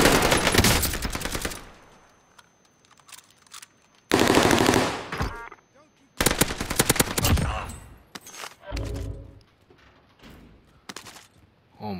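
Bursts of automatic machine gun fire in a battle-royale style shooter game, three loud sustained volleys separated by quieter scattered shots and thuds.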